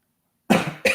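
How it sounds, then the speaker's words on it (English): Two quick coughs from a person, a harsh burst followed by a shorter second one, close and loud after silence. "All you had to do was cough, dude"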